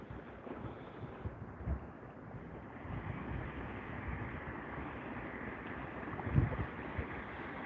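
Choppy waves slapping against a fishing kayak out on open water during a bass fishing trip, a steady broadband wash of water and wind with a few louder bumps, no voices.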